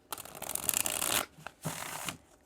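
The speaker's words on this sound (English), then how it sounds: "I had to shuffle those a little more because it's like, my goodness, all these cards" A deck of cards is shuffled by hand, two quick riffling bursts with a short pause between, close and crisp with no talking.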